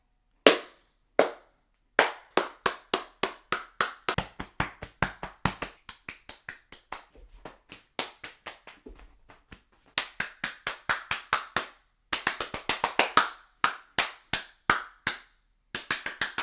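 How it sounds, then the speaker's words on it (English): A lone pair of hands claps in sharp, close, dry bursts, starting with single claps and then breaking into fast irregular runs separated by short pauses, with no other sound. "a massive round of applause"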